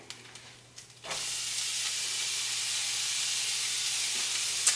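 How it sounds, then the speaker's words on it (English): White onion hits a hot pan with a sudden loud sizzle that swells at once into a steady, close frying hiss and keeps going without any talk. "And then in the same pan, we're going to go ahead and add our onion"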